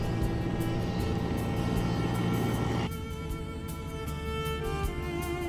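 Helicopter flying over Korean countryside during an aerial survey, a steady loud rotor and engine drone throughout with a slight shift in tone midway, no voices.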